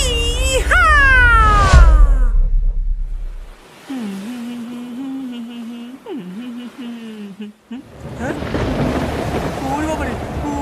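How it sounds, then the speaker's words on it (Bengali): Cartoon thunderstorm at sea with a loud thunder crash and rumbling wind and rain, followed by a sustained stormy roar; a character voice talks and exclaims over the storm. "হঠাৎ এমন ঝড় উঠলো কেন? এমন ঝড় কোথা থেকে এলো?"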